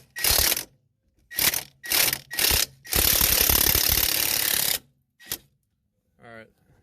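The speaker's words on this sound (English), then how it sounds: "the next step is to remove these 2 bolts" A wrench ratcheting on front strut bolts during a strut replacement: several short bursts of loud, close clicking, then one long sustained run of ratcheting, followed by a brief final click.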